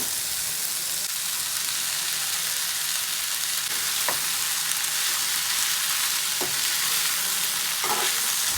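Squeezed soya chunks go into a pan of softened tomato for a vegetarian pepper chukka, giving a constant close sizzle with a few spoon scrapes and clinks.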